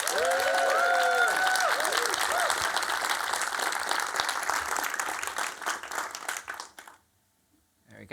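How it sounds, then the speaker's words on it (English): A conference audience applauds to welcome a speaker, with loud, sustained clapping and a brief musical chime early on, fading out near the end before a short silence. "A huge round of applause,"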